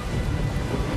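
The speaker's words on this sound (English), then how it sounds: "it started pouring with rain, and it's not even the rainy season." Heavy tropical rain pours outside the rainy season, a dense steady roar with a low rumbling undertone like distant thunder, continuous and fairly loud with no voices.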